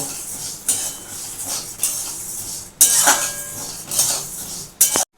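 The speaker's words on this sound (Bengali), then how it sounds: "বন্ধুরা দেখো আমি ডালটাকে একটু ভালো করে ভেজে নিচ্ছি" Moong dal dry-roasting in a pan, heard as a few separate bursts of metal spoon scraping and clinking against the pan with near-quiet gaps between strokes, close and fairly loud, no talk.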